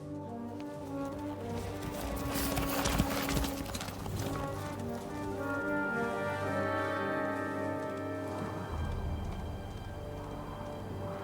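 Horse hooves clip-clopping in Kingdom Come: Deliverance 2, a steady trot of hoofbeats under a layered musical and ambient game backdrop, fairly close and continuous throughout.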